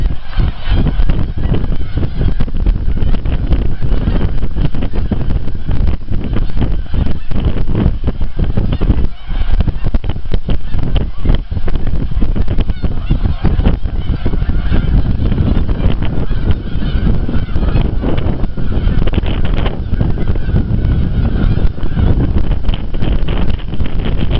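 Geese honk repeatedly by Chantry Bay's shore near Southampton, Ontario, amid strong gusting November wind buffeting the microphone, the calls loud and continuous over a rough roar of air.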